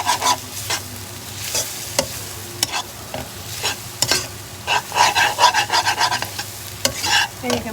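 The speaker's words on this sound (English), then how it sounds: "Now we're just going to stir this. So it's almost like you're making scrambled eggs in the stir frying." Rice and egg being stir-fried in a pan, with a steady close sizzle broken by repeated scraping, clattering stirs of a utensil against the pan.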